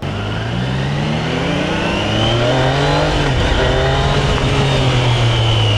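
A Triumph Daytona 660 motorcycle engine drones loudly and continuously on a test ride, its pitch rising and falling through gear changes over heavy wind noise.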